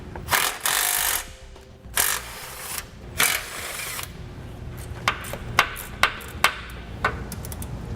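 18mm headed bolts are removed from the underside of a 2005 Chevrolet with power tools: several loud bursts of whirring and rattling, then a string of sharp metallic clanks and pings, close by with no talk.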